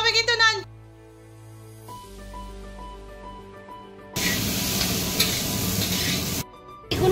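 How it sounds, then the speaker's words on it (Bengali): Potatoes frying in a pan, a loud crackling sizzle that bursts in midway and holds for a couple of seconds before cutting off, preceded by music-like tonal sounds and a brief voice. "এখানে আলু ভাজা চলছে।"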